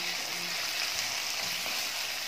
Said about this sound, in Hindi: टमाटर डाल देंगे, आग तेज कर देंगे, इसको थोड़ी देर भूनेंगे